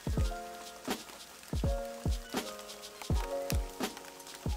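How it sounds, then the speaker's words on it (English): Rain falling on a canopy during a walk through the Mayan ruins at Tulum, a steady soft patter broken by repeated low thumps and heavier drips close by, with no talk. "It's still raining, but it's better now."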